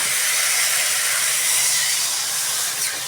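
Water hits hot curry masala in a pan and bursts into a loud, continuous steamy hiss that holds strong for a few seconds, then eases slightly, with no talking.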